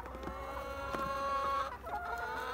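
A flock of around 220 chickens clucks and murmurs inside a coop, steady close-up chatter with a few sharper squawks and no talk.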